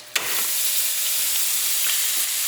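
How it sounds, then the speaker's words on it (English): A steak dropped into a hot pan bursts into a sudden loud sizzle that holds as a steady, close hiss for a couple of seconds, with no talking. "I take it and I just throw it on for a few seconds"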